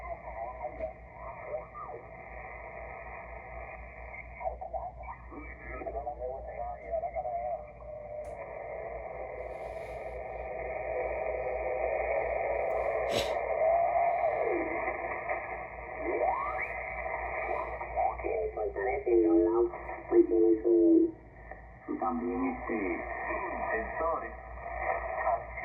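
Amateur radio reception through the speaker of a Yaesu FTDX-10 transceiver: band-limited hissy voices and warbling tuning squeals drift in and out over steady static, moderately loud throughout with brief crackles.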